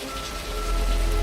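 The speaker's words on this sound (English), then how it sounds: "Director Ridley Scott filmed Hauer's version in the rain on the rooftop set" Steady rain falls on a rooftop film set, a dense hiss over a low rumble that swells slightly, with faint sustained tones underneath.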